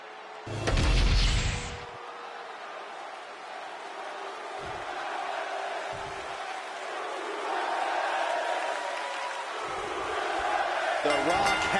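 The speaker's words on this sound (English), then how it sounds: "The Rock has to be feeling the energy from the crowd right now." In the WWE 2K25 wrestling game, an arena crowd cheers for The Rock with a sustained roar. A loud burst hits near the start, and the cheering stays steady and swells slightly later on.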